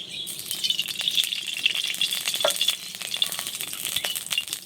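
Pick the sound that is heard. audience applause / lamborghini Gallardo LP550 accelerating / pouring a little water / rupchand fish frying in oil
rupchand fish frying in oil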